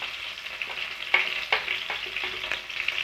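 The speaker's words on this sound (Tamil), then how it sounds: "இது கூடவே பெருங்காயத்தூள் சேர்த்துப்போம்." Asafoetida powder going into a sizzling tempering with mashed tomato for paruppu rasam: continuous close frying hiss broken by several sharp spoon clinks and stirring taps, no voices.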